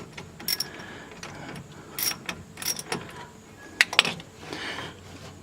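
Wrench loosening the nut on a car battery's positive terminal clamp during an Optima battery install: a few short, light metallic clicks and ratcheting scrapes, close and fairly quiet, with no talk.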